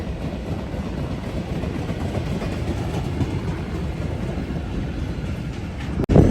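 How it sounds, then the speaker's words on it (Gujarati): A German train rumbles steadily along the rails, heard from on board, with a continuous low clatter, close and fairly loud, ending in a brief louder bump. "અમે ટ્રેનમાં બેસી ગયા છીએ ને આવી કંઈક અમારી ટ્રેન છે"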